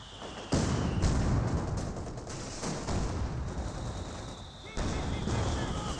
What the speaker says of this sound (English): He is using barrage. The barrage does have pretty good rate of fire.